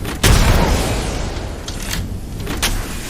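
A grenade explodes in the video game Apex Legends, a loud close boom with a rumbling tail that fades over a few seconds, followed by faint game noise.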